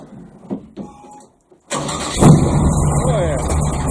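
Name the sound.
1971 AMC Gremlin big block 496 engine starting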